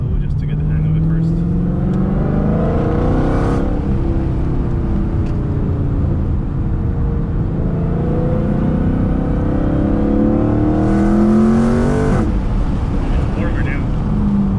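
A Dodge Hellcat drives slowly, its engine a loud, close, steady drone with gradual rising and falling pitch sweeps as it accelerates through gears; occasional talk from inside the car sits beneath the engine.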